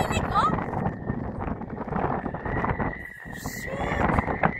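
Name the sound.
strong wind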